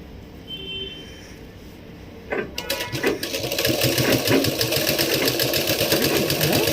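A sewing machine stitching fabric starts up after a quiet stretch and then runs on steadily with a fast, close mechanical whir and rhythmic needle clatter.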